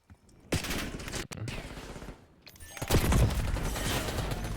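Gunfire in the video game Call of Duty Black Ops 6 from a sniper, knife and pistol match: loud sharp shots burst out and then roll into a dense, sustained fusillade with booming impacts, with no talking.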